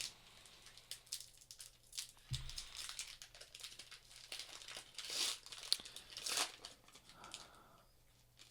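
A Pokémon trading card pack's foil wrapper is crinkled and torn open up close, giving bursts of sharp crackling and tearing with pauses and handling noises in between, fairly quiet, with no speech.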